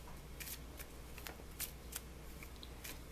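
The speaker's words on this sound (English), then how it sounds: "Let's just start shuffling." Tarot cards are shuffled by hand, giving short crisp riffles and snaps at irregular intervals over a quiet background, close and fairly faint.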